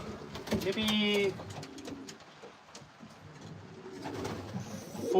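Racing pigeons in a loft of about forty birds coo in soft, overlapping rounds, with the fullest burst near the start before the flock settles into quieter murmuring.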